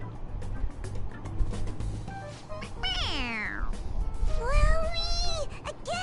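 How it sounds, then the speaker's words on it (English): A stuffed toy cat in the video game Persona 5 Royal meowing when pressed, two clear drawn-out meows in quick succession over game background sound and speech. "It meows when you press on its head."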